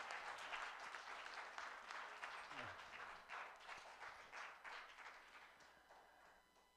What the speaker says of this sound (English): Let's give the Lord a hand clap praise.